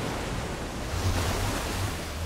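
Water gushes out in the Minecraft Story Mode video game, a steady dense rushing roar with a low rumble, continuous and fairly loud throughout.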